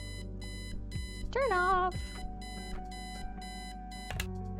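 Repeated electronic alarm clock beeping in the video game Kathy Rain, a steady pulsing pattern of bright tones running throughout, with a short burst of another synthetic tone partway and a voice speaking briefly.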